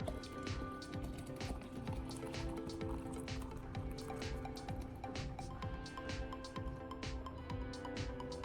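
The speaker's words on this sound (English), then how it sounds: "Using the funnel again, I carefully poured the toothpaste water mixture into each battery cell." Hot toothpaste and water mixture poured through a funnel into the cells of an old battery, giving a stream of quiet, close drips, splashes and gurgles that continue irregularly with no talking.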